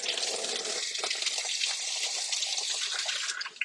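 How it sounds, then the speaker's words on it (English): Hot water streams and splashes continuously while being poured for throwing clay bowls on a potter's wheel, a close, bright gushing sound that tapers off at the end. "I need a little more hot water."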